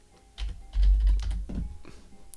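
Computer keyboard typing during a Yu-Gi-Oh GOAT format game, a short quiet flurry of key clicks close by.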